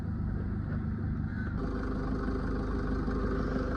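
A Mahindra Xylo E4 engine starts and idles steadily with a low, continuous rumble throughout, nearby and fairly loud, with a slight change in tone partway through.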